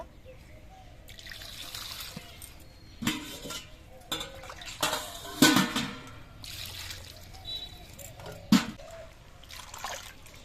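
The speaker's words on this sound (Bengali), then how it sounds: "এবার এই বাঁধাকপিটা ধুয়ে নেব" Cabbage is washed in a bowl of water, with intermittent splashes, trickles and drips plus occasional clinks of a metal vessel, heard close and fairly quiet.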